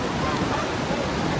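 Ocean surf rolling in at high tide on Versova beach, a steady unbroken wash of waves close by, mixed with crowd noise and wind.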